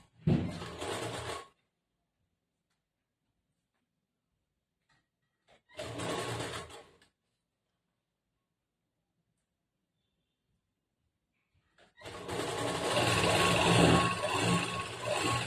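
A sewing machine stitches along a folded cloth edge while a plain blouse is being sewn, running in three separate bursts: two short runs of about a second each, then a longer steady run near the end, with silence between.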